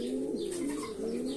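A male pigeon coos in a courtyard, a continuous low, throaty warble close to the listener.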